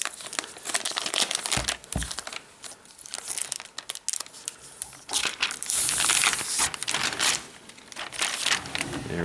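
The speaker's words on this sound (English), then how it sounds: "let's go ahead and remove this envelope" A paper envelope slides out of a Google Chromebook Pixel box with close, loud crinkling and rustling in irregular bursts, followed by a longer stretch of denser crumpling.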